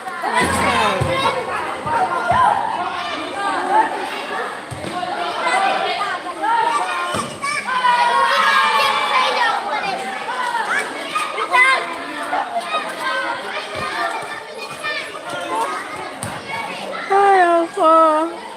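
Children play and shout outdoors, their high excited voices overlapping with crowd chatter and occasional thuds, loud and close throughout.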